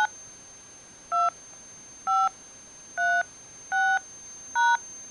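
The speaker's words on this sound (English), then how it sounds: "Please enter your patient ID number followed by the pound key." Telephone keypad tones entering a patient ID number on an automated phone line: five short, evenly spaced DTMF beeps, clear and close, with a faint steady hum between them.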